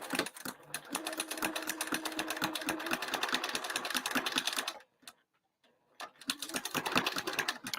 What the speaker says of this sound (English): I'm going to change it to a 3, and I'm going to stitch along that line